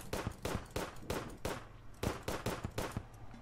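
Phoenix Blaster gun in the Terraria video game firing rapidly, a quick run of about a dozen sharp, punchy shots at a fairly even rhythm, up close with no talking.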